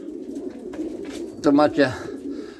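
Soft pigeon cooing, a low throaty warble rising briefly near the middle, with someone speaking quietly over it.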